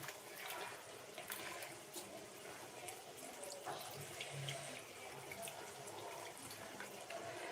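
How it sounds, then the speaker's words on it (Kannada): Water is poured into a cooking pot while a ridge gourd curry with gojju is being made, giving a steady, soft rushing pour that lasts throughout at a low level. "ಇನ್ನೊಂದು ಸ್ವಲ್ಪ ನೀರು ಹಾಕೊಳ್ಳಿ"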